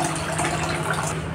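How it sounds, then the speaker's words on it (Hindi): Water pours steadily into a cooking pot of cut petha (ash gourd) pieces, making a continuous gushing, filling sound for the whole moment with no talk. "पतीला में हमें इतना पानी ऐड करना है कि सारे जो पेठे का पीस है ना अच्छे"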